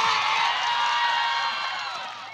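Audience at a Kannada stand-up comedy show clapping and cheering, a dense steady wash of applause that slowly fades over a couple of seconds.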